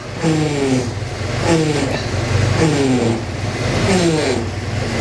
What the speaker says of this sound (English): Because if I full lock it, I can stall out the car.